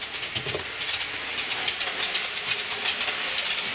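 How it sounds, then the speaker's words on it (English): A model container train runs along an outdoor track, giving a steady rolling rumble with rapid clicking over rail joints, moderately close and continuous with no voices. "So here's the container train"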